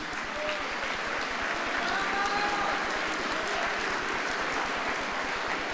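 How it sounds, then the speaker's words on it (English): A school assembly crowd applauds its spring athletes with sustained, even clapping and a murmur of voices mixed through the steady roar. "ask all of our spring athletes to be kind enough to stand so that we can give them a round of applause"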